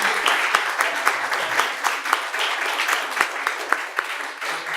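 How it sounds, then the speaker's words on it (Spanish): Audience applause closing an academic conference on social history, a steady dense patter of many hands clapping throughout with no voices over it. "Yo pido un aplauso para Ezequiel nuevamente de cierre."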